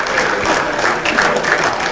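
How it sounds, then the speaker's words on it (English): Stadium football fans at a Sierra Leone versus Nigeria AFCON qualifier applaud a substitute coming on, a broad, continuous roar of clapping and crowd noise filling the ground. "A round of applause from the fans"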